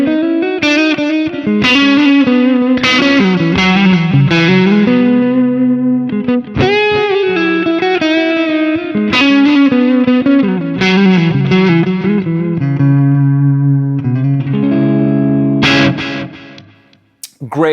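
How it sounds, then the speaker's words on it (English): Electric guitar through a Boutique Tones BT MT15 amp, playing chords and melodic runs drenched in reverb and echoing delay, loud and continuous, with notes trailing off. "Let me add maybe some reverb and delay"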